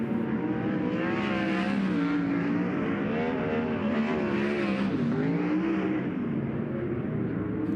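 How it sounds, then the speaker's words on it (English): Dirt race cars rev and accelerate together during a hot lap session at Central Arizona Raceway, a loud, continuous roar of engines climbing and falling in pitch throughout. "Cars getting up to speed as the flagman lets them know it's time to get on the hammer"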